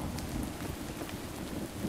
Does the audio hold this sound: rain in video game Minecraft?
yes